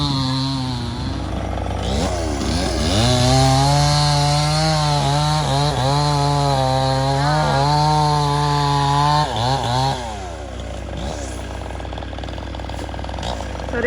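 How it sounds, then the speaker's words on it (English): A chainsaw runs steadily nearby cutting down rubber trees, its engine revving and bogging as it bites through wood, with a brief drop in pitch near the end. "So the chainsaw is going on at the minute."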